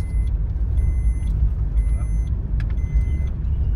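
A bus makes a right turn on a road, its deep engine rumble running steadily underneath while a high electronic beep repeats in even pulses about once every second.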